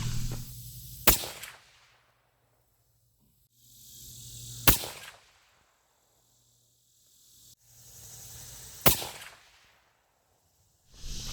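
Three rifle shots fired as a final group, each a loud sharp crack spaced a few seconds apart. Quiet gaps with faint background noise lie between them.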